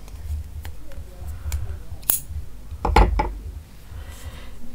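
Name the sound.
scissors cutting yellow crochet yarn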